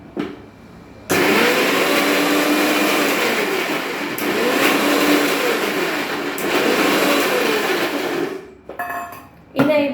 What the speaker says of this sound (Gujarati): આ બંને આપણે મિક્સ કરી અને થોડું પીસી લઈશું